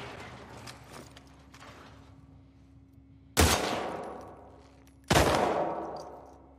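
Gunfire in a shooting contest in The Last of Us Part 2: two sharp, loud shots a couple of seconds apart, each with a long reverberant tail, over a low ambient hum.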